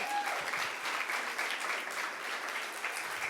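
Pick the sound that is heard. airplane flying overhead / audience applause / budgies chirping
audience applause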